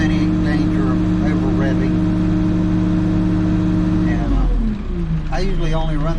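The diesel engine of an old New Holland backhoe runs loudly and steadily, then its pitch shifts as the revs change, with a voice talking over it.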